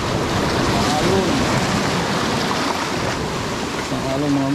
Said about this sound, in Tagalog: Isang alon mga master. Basang basa na tayo.